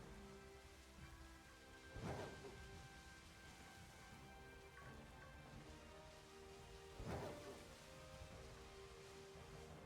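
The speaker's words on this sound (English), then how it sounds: "It's raining." Steady faint rain falls throughout, with two soft rumbling swells like distant thunder rising and fading a few seconds apart.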